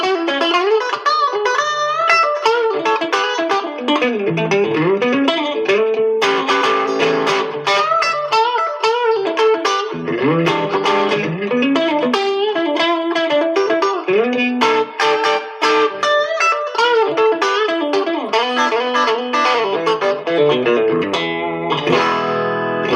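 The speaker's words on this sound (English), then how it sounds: "go to the second position, we have traditional Strat, quackiness." A Fender American Pro II electric guitar on the second pickup position gives the quacky Strat tone in a steady, loud stretch of chords and single-note lines, with effects and light distortion and no talk.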